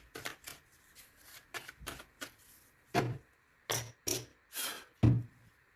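An oracle card deck is cut and shuffled up close, giving a series of crisp riffling bursts and soft slaps at an uneven rhythm, with no speech.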